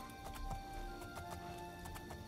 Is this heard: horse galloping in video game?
yes